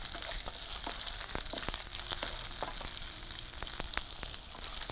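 Onion, garlic and urad dal sauté in oil in a pan: an even, close sizzle broken by frequent sharp clicks and scrapes of a spoon stirring.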